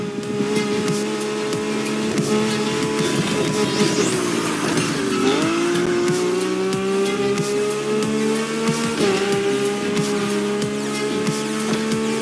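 Lamborghini cars racing in the video game The Crew Motorfest, engines droning loudly with rising revs, pitch sweeps and brief tire squeals as gears shift, continuous throughout.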